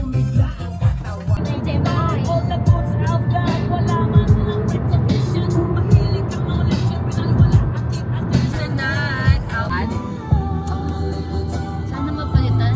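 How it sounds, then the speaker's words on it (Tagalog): Road traffic surrounded by trucks on the way to Baguio, a steady rumble of engines and passing vehicles heard from inside a car, with people talking over it. "napapaligiran kami ng mga truck."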